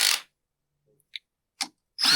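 A power tool drives carburetor screws on an Echo PB-7910T leaf blower, giving short separate whirring bursts of a fraction of a second each, split by silence.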